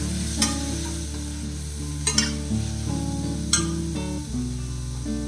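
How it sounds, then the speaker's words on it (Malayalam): Two medium tomatoes sauté in a pan for a cowpea masala, sizzling steadily while a ladle stirs and scrapes, giving three distinct clanks spaced across the moderate, close frying sound. "ഈ ടൊമാറ്റോ നല്ല രീതിയിലൊന്ന് വഴറ്റിയെടുക്കണം."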